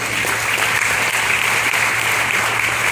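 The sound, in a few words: audience applause for DXN product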